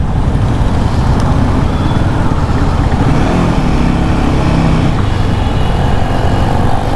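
Royal Enfield Himalayan 450 motorcycle riding on a city road, a loud continuous engine drone blended with surrounding traffic and heavy wind rumble throughout.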